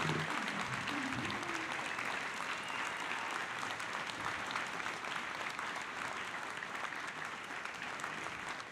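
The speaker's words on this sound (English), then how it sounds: "Please stand so you can receive a warm round of applause." A seated luncheon audience gives sustained, dense applause for honored everyday heroes, a full room of clapping that holds steady for several seconds with faint crowd murmur beneath.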